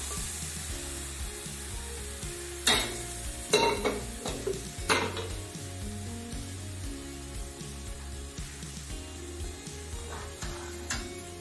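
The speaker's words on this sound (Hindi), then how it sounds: "एक एक पाव दही हम तीन बार में छौंक लिए" Steady sizzling of yogurt being tempered in a hot pan for raita, with a low hum underneath, broken by a few sharp clatters of a spoon stirring against metal.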